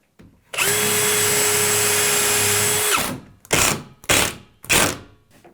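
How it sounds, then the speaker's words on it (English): A power drill with a bigger bit bores into a hard wood countertop in one steady, loud burst of about two and a half seconds, followed by three short, sharp bursts of the drill, all close by with no talking. "I gotta do a bigger drill bit and go at an angle"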